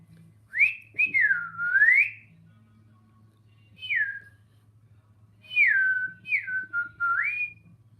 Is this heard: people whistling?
yes